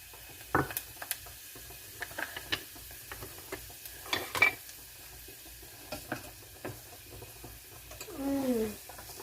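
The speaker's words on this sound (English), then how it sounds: "we're going to put in our cut up guajillo, okay? And we're going to put it right in there, let it fry up" Cut guajillo chiles frying in a pan for birria: a quiet, low sizzle beneath scattered stirring scrapes and knocks against the pan, ending in a brief squeaky rubbing noise.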